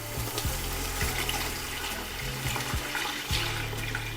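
Water poured steadily into a pot of softened tomatoes for chicken kabsa, a continuous close splashing stream with no talk.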